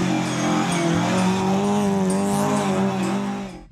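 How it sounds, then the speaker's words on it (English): Ford Mk2 Escort Group 4 rally car engine roaring close and loud, a steady high-revving drone with strong harmonics that holds throughout and fades slightly at the end. "Another Group 4 Mk2 Escort rally car."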